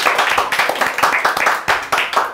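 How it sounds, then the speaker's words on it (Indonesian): A small comedy-show audience claps close and loud, with quick uneven handclaps bunched together, their rhythm pulsing and thinning slightly near the end. "Tepuk tangan."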